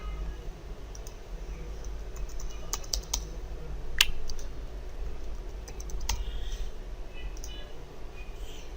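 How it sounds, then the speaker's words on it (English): Clicky keystrokes on a computer keyboard as an admin name and password are typed, in irregular quick taps over a low steady hum, fairly quiet and close. "So here we can type admin name and password."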